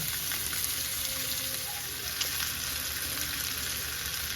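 Short ribs sear in a hot pan, producing a steady, moderately loud sizzle with no talking.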